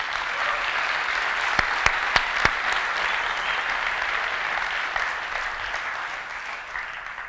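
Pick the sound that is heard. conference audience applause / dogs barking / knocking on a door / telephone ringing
conference audience applause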